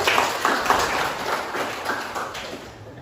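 Students in a classroom clap for a classmate, a dense patter of hand claps lasting a few seconds at moderate loudness before trailing off.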